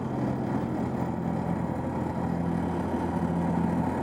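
A tractor engine drones steadily on a road through open fields outside Matera, a continuous low rumbling hum with no change in level and no voices.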